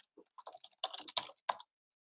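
Typing on a computer keyboard to enter notes in a collaboration app: a quick run of clicky key presses in short bursts, close and fairly quiet, with no talking.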